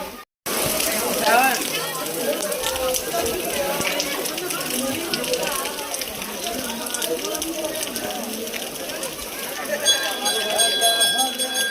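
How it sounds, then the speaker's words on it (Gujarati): Steady, dense rain hisses and splashes nonstop at a Mahadev temple, with faint voices mixed into the wash of noise. "વરસાદ કેવો ચાલુ છે."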